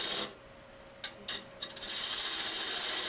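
A skew chisel scrapes across a spinning live-edge crotch wood bowl on a lathe, a steady hissing rasp broken by a few brief knocks of the tool near the middle.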